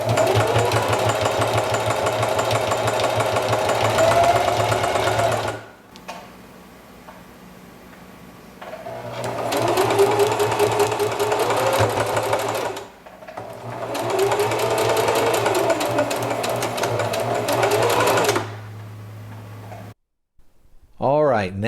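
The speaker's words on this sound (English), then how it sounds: "it'll basically just be me sewing a seam down here, sewing a stitch" Sewing machine running a seam on an armrest cover, loud and steady in three long bursts with brief quiet gaps between, the motor whirring continuously during each run.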